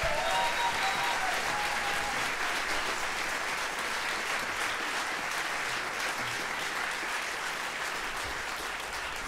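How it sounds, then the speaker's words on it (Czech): Sustained audience applause at a Czech folk music concert, steady dense clapping from a large crowd filling the whole stretch, close and even in loudness throughout. "Prosím, přivítejte je potleskem."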